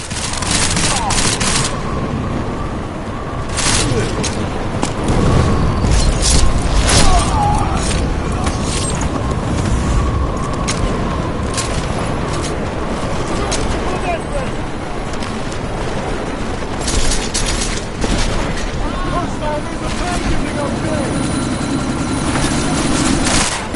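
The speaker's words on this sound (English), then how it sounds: "you need to disable that chopper" Helicopter and explosions in the video game Deus Ex Mankind Divided during a sandstorm: a steady rotor-like drone with repeated sharp bursts and crackling blasts scattered throughout, dense and loud.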